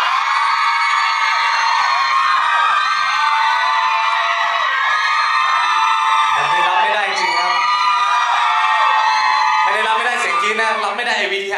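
A large crowd at a press event for a Thai singer screams and cheers loudly and continuously, shrill voices piling up, with a voice shouting over them near the end.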